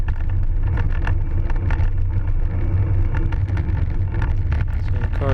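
A car trails behind a bicycle on a cold 40-degree road ride, its steady engine and tire rumble close and continuous under heavy wind buffeting on the rider's microphone.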